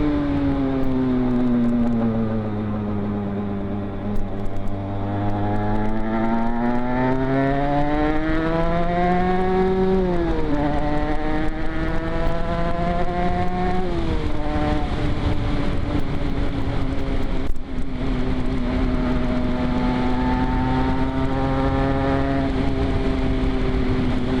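Two-stroke Aprilia RS 125 sport motorcycle ridden on the road, its engine note steady and loud, rising and falling through gear changes with repeated revving climbs, wind noise underneath throughout.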